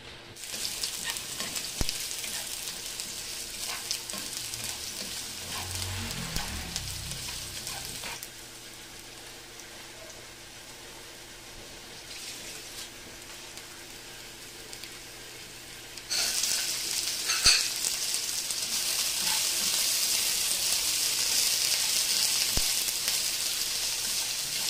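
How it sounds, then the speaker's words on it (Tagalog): Sliced pork tongue dropped into hot cooking oil for sautéing, a steady hiss of frying that briefly quiets and then returns louder and brighter, with a few stirring scrapes and no talking. "mainit na yung mantika. Pwede na tayo maggisa"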